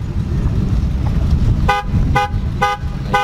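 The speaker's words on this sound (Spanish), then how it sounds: "Si no hay pitido, no es fiesta de rancho." A car horn honks four times in a quick, even rhythm over the low rumble of an engine nearby, at an outdoor ranch celebration.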